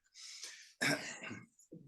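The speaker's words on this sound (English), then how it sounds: "No, it's a dry cough" A couple of dry coughs and throat-clearing bursts, close and fairly quiet, with a short breathy sound trailing off at the end.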